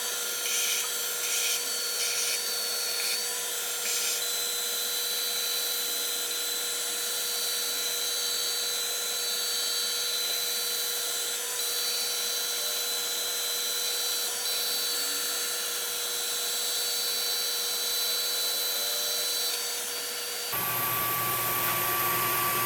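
An Atomstack A30 Pro laser engraver runs steadily during a woodturning job, giving a continuous whine and hum with high tonal layers and a few rhythmic ticks near the start, then a shift in tone at the very end.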